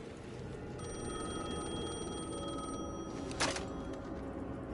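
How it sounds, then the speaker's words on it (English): A telephone in the horror game Alan Wake 2 rings with a steady electronic trill for a couple of seconds over a murky ambient drone, followed by a sharp click as it stops. "phone was ringing again"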